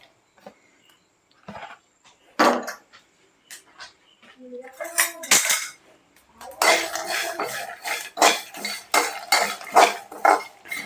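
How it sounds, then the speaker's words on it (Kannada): Garlic, dried red chillies and curry leaves dry-roast in a pan, heard as sharp metallic scraping and clattering strokes that grow denser toward the end, with a dog whimpering and brief voices early on. "ಇದನ್ನ ಡ್ರೈ ರೋಸ್ಟ್ ಮಾಡ್ಕೊಳ್ಳೋಣ ಗೈಸ್."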